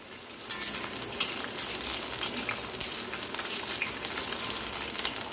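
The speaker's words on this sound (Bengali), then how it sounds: "উচ্ছেটা সবার প্রথমে ভেজে নেব একটু।" Sliced bitter gourd (uchhe) fries in hot oil in a pan, a loud, dense, continuous sizzle heard close up without any voices.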